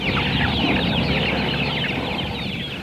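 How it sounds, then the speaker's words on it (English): Several thousand chickens crowded together at area poultry farms, a dense continuous chorus of clucking and squawking that stays loud and steady throughout, with occasional wing flapping. "Among the victims, several thousand chickens at area poultry farms."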